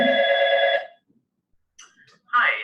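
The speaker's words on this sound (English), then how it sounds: "now I have a call coming in. It's ringing and flashing" A telephone rings with an incoming call at a customer service desk, one steady electronic ring burst that stops abruptly, followed by silence and then a voice speaking.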